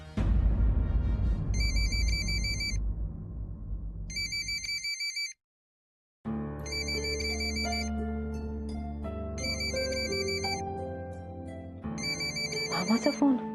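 A telephone rings with repeated bursts of an electronic ringtone over background music. The music drops out briefly and the ringing then goes on, loud and close.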